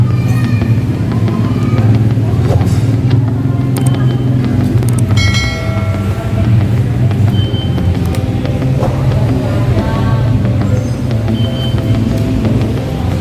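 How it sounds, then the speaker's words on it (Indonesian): Mini train ride at Taman Mini Indonesia Indah, a continuous loud low rumble of the running train with rattling and clanking throughout and no clear talk. "Kereta mini Taman Mini Indonesia Indah."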